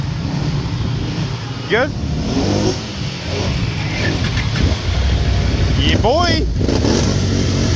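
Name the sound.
2023 Can-Am Outlander 850 ATV engine running on a ride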